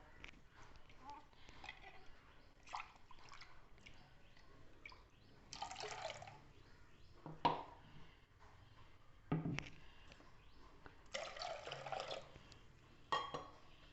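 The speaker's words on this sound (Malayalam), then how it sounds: "കുറച്ചുകൂടെ വെള്ളം ചേർത്ത് കൊടുക്കാം" Water is added to ground mackerel fish curry masala in a clay pot, making faint, intermittent pouring and splashing bursts.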